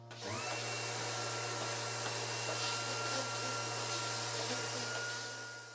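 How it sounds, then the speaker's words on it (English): A wet vacuum runs steadily, sucking up water from a floor after buffing during a farmhouse build, a constant close, loud motor drone with a high whine and hiss throughout and no talk. "Stop after small areas, vacuum it away."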